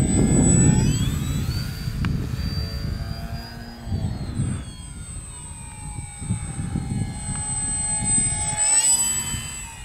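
A vintage Scorpio Miss Bipe RC biplane of 1.08 m span flies past with its small engine droning loudly, the pitch sliding and the sound fading as it moves away, then swelling again toward the end, with no voices.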